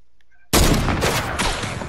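Gunfire in the Fortnite video game: a sudden loud burst of rapid shots erupts after a brief quiet moment and keeps going as dense, continuous firing to the end.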